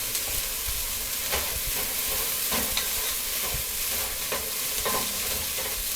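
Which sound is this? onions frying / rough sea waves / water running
onions frying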